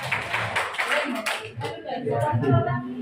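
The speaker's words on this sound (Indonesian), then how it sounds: "Tepuk tangan buat Wanayasa." Audience clapping at a teachers' conference and coordination meeting in Wanayasa, a burst of hand claps that thins out while voices talk over the tail end.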